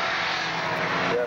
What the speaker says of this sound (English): Not quite as much traffic,